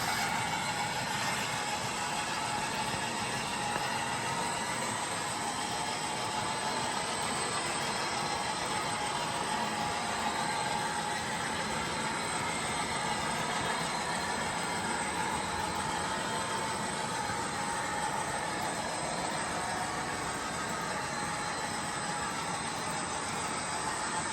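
A model train hauled by a Cavalex class 56 locomotive runs steadily at half speed into a helix, a continuous mechanical rumble and whir with faint rail clatter, close and even for the whole stretch.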